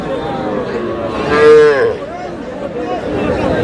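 A young bull calf at the Ambari cattle market gives one loud, drawn-out moo near the middle, over a constant din of crowd chatter.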